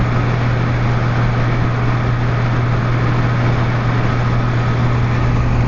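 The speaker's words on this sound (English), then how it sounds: "And can you guys hear that engine?" A motorcycle engine runs smoothly at freeway speed, about 72 mph, giving a steady, continuous low drone with constant rushing noise and no pauses throughout.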